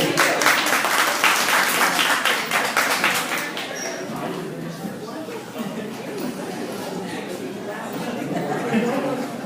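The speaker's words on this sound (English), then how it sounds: "Give him another round of applause" After a CTE foundation speech, the audience bursts into loud applause that rolls on for a few seconds and then thins into chatter and murmuring voices as the clapping dies away.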